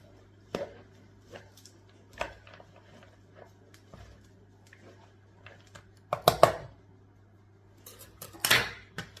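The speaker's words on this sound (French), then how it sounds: "je vais la mettre dans une cuvette et continuer à la couper finement" Mallow leaves are finely chopped in a bowl with scattered, irregular knife taps and scrapes, faint and close over a low steady hum, with a louder scraping burst near the end.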